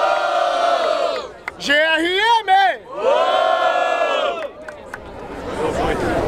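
Loud crowd cheering and shouting at a Brazilian freestyle rap battle in Barueri, São Paulo, with an MC yelling over the roar, which swells and dips across the clip.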